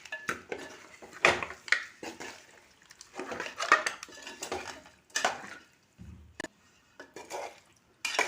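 A spoon stirs native-style chicken curry in a pan, giving quiet intermittent scrapes and metallic clinks against the pan with irregular pauses between them.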